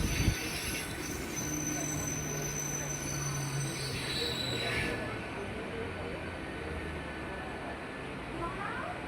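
Howrah to Amta local train pulling into a station, with continuous rumbling and rail noise throughout and a brief high wheel squeal near the end, plus a steady hum of the coach and background chatter.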